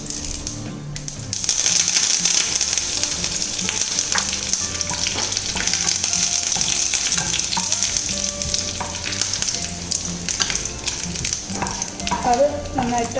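Dried red chillies and curry leaves frying in hot oil for Kerala-style masala idli, a steady close sizzle with occasional stirring clinks throughout.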